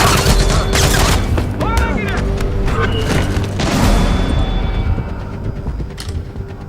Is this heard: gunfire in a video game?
yes